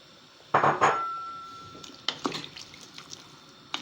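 A spoon clanks against a metal pot while green beans with potatoes are stirred, two loud knocks followed by lighter scraping clinks and soft wet shuffling of the vegetables.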